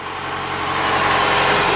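A Honda Accord engine idles high and steady, a loud continuous hum close by with no breaks.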